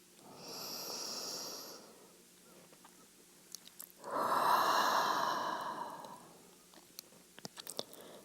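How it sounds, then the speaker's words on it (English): Two long, breathy exhales during a yoga session, the second fuller and louder, each a sustained airy rush lasting about two seconds, with faint clicks and rustles between them and no talking. "One more releasing breath."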